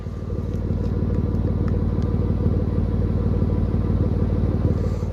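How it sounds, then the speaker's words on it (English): Exhaust of a cheap used car fitted with a muffler delete, idling with a steady, loud, rumbling pulse that continues unbroken, close to the microphone and free of voices. "listen to the exhaust. Even if you don't have a muffler delete, listen to the exhaust."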